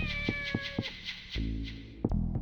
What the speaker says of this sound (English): every cat in this game has the same exact meow sound